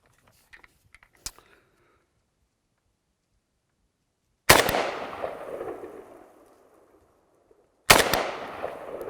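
Two loud rifle shots from a Century Arms N-PAP AK, each a sharp crack with a decaying tail, a few seconds apart at close range, preceded by faint clicks.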